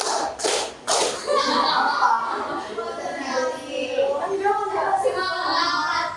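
Indonesian junior high students clap in rhythm during a classroom routine. Two or three sharp group claps come first, then energetic children's chanting and chatter carry on over lighter tapping.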